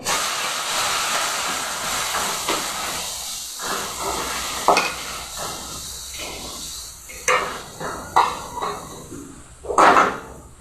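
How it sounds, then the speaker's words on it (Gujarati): Mustard seeds splutter and pop in hot oil, giving a steady hiss broken by irregular sharp crackles that grow louder and denser toward the end, heard close with no talking. "રાઈ ફૂટે એટલે હિંગ નાખીશું."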